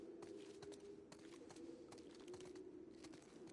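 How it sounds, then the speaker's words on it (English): Faint, soft cooing of pigeons echoing down a hallway in The Last of Us Part II on PS5, a low steady murmur with light clicks over a quiet ambient bed. "is that pigeons echoing through the hallway?"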